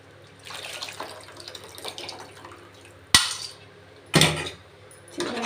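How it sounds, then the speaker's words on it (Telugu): Tamarind water poured into a pot of rasam in a home kitchen: soft splashing and trickling, broken by two sharp metallic clanks of the vessel and a final splash. "చింతపండు వాటర్ వేసాను"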